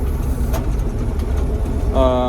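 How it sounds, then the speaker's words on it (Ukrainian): Swedish Volvo 1130 mini combine harvester driving, with a steady mid-pitched engine drone nearby and a brief tonal whine near the end; a person talks over it. "Дуже швидко, до речі, цей комбайн їде."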